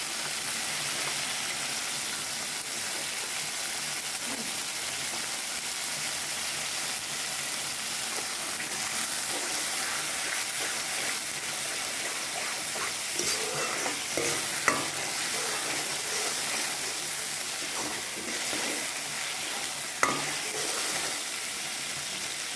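Spices with turmeric sizzle and fry steadily in hot oil for a paneer curry, a dense continuous crackle with occasional stirring scrapes and small pops.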